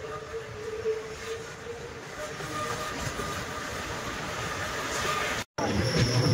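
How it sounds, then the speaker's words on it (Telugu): A train rolling into Begumpet railway station in Hyderabad gives off a steady, close rumble of wheels and carriages with faint clatter, broken by one brief cut near the end before the noise returns. "సో మన ట్రైన్ అయితే బేగంపేట స్టేషన్లోకి అయితే ఎంటర్ అవుతుంది."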